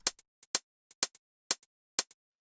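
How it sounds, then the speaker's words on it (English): Two short 909-style hi-hat samples for minimal house alternate in a sparse, steady pattern of crisp, dry ticks, quiet and close with silence between hits. "So the next thing that we have here are these two hi-hats"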